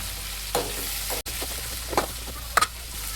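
Tomatoes and onions sautéing in a pan for a bitter gourd curry, a steady low sizzle with a few soft stirring scrapes and clinks of a spoon, no talking.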